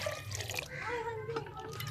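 Water poured into a cooking pot while making ojri, a soft trickling and splashing of liquid that comes and goes over a quiet background.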